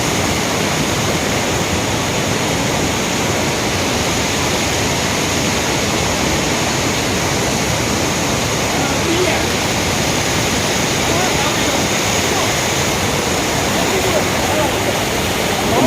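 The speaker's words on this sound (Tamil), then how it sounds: "எல்லா பக்கமும் சின்ன சின்ன ஓடையாக ஓடுது" Small forest streams and falling water at a bathing spot make a steady, dense rush that stays loud and close throughout, with no break or change in level.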